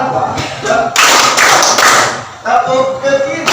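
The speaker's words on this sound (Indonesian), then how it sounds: "tepuk ke kiri, tepuk ke kanan, berputar, tepuk tangan." Hands clap along to a children's action song about clapping left and right and turning around, with rhythmic claps and thumps mixed under singing voices.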